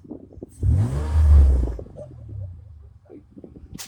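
An engine with no muffler revs once, a loud low rumbling swell that rises and fades over a couple of seconds, with quieter mechanical noise around it.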